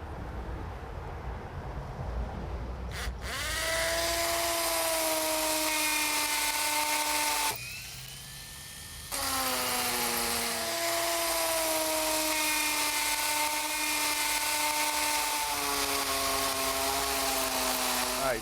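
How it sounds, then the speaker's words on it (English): Power drill boring holes into concrete for anchors, a sustained high whine with steady tonal pitch, briefly stopping and restarting, close and loud, with a voice faintly underneath. "Now I'll just drill the holes for the concrete anchors."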